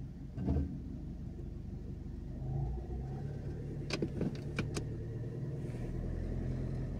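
A car engine idles and rises gently under light throttle, a low, steady rumble with a few sharp clicks partway through.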